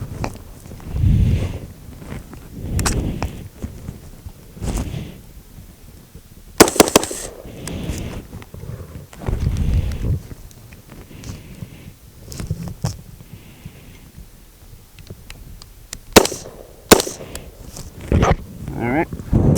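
Rifle shots at an outdoor shooting range, fired by a shooter wearing a gas mask helmet: several sharp, loud single cracks spaced seconds apart, with someone talking in between.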